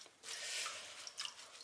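Rinsed kale draining in a sieve, with soft water drips and trickles pattering close by, a faint, wet spattering that rises and falls for a couple of seconds with no talking.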